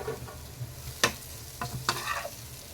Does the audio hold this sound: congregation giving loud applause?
no